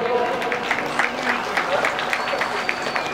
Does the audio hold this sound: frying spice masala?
no